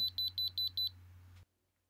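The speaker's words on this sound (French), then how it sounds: "Vous devez également obtenir un bip long." A radio digicode keypad gives a string of short, evenly spaced beeps, then one long tone that cuts off abruptly, heard alone against a faint steady hum.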